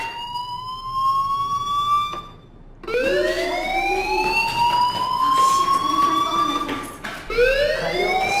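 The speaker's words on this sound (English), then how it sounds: "do you hear that fire alarm? That means you should be outside." Fire alarm wailing inside a school building in the video game Life Is Strange, a loud rising and falling siren-like tone that cuts out briefly, then resumes and sweeps repeatedly.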